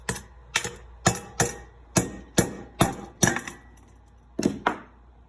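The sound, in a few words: hammer knocking slag off a lead button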